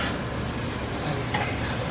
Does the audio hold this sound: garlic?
yes